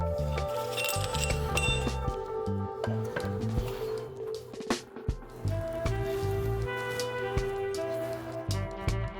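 Metal clinks and taps ring out repeatedly as a rear brake caliper is fitted back over the brake pads on a 2011-2017 Honda Accord EX, with scattered close knocks over a steady background hum.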